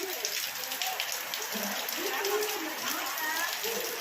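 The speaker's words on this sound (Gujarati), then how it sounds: "વરસાદ જુઓ તમે, હવાનો ચાલુ છે, એક જ ધારો, બંધ જ નથી રહેતો મિત્રો" Heavy monsoon rain pours down without a break, making a dense, even hiss close around, with a voice talking over the downpour.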